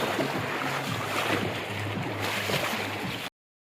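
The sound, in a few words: fast-flowing floodwater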